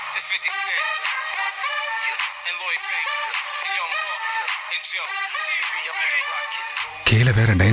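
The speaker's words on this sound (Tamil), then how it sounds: "இந்த நேரத்துல இவ ஃபோன் பண்றா." A phone rings with a loud, bright electronic ringtone melody playing continuously under dramatic background music, as an incoming call arrives in a Tamil TV drama scene.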